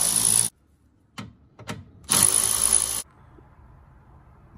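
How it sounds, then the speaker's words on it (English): A power screwdriver backs out 8 mm screws from the under tray of a BMW F87 M2, M3 or M4: two short whirring bursts, close and loud, separated by a few quiet clicks and taps. "So yeah, you want a power screwdriver or a ratchet to do that, because there's a lot."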